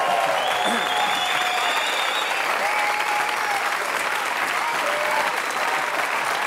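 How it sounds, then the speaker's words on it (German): A studio audience applauds steadily throughout, a dense, even wash of clapping from many hands, close and sustained, with faint voices mixed in. "Die Leute haben so geklatscht."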